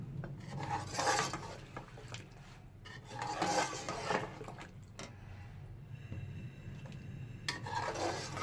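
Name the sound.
mixing flour into beef nihari in pot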